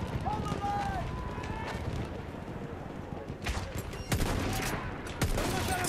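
Gunfire in a Battlefield 1 multiplayer match, scattered shots and bursts with a few sharper reports near the end, mixed with game noise.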